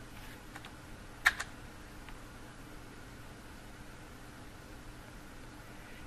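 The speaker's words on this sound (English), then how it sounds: "you can simply type this keyword into the search bar" A few light key taps on a computer keyboard, one sharper click followed by a softer one, sit over a steady background hiss in a quiet room.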